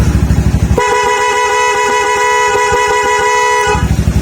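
A car horn blares in one long sustained honk lasting about three seconds, loud and close, with an idling engine rumbling before and after.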